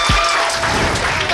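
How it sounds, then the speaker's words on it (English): A crowd at a live celebration event for businesswomen gives a loud, dense round of applause that fills the room continuously. "Shall we give these ladies another thunderous round of applause for their courage?"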